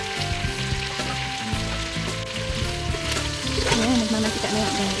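Pork sizzles and crackles in hot oil in a pot, a steady frying hiss with some clatter and a voice talking over it.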